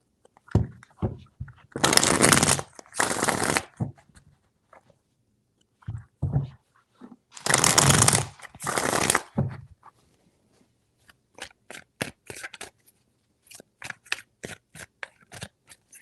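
Tarot cards are riffled in three shuffles, with two longer bursts of crisp, dense flutter followed by a scatter of lighter taps and card flicks, close and fairly quiet.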